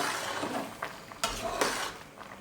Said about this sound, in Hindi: चावलों में बॉयल आना शुरू हो गया, अब हम एक दफ़ा अच्छी तरीके से चम्मच हिला के